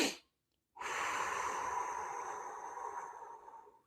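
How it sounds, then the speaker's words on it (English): A person demonstrates an anti-anxiety breathing exercise: a short sniff through the nose, a brief pause, then one long, steady, close-up breathy exhale that fades out. "you're doing a double breath through your nose and then a long exhale"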